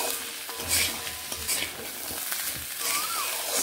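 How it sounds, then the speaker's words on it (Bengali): Chickpea curry being stirred in a frying pan: a steady scrape and shuffle of a spoon through the thick mixture over a low sizzle, continuous and close, with no one talking. "ভালোভাবে মিশিয়ে এইভাবে নেড়ে নিচ্ছি।"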